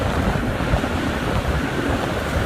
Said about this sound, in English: There's a huge gust.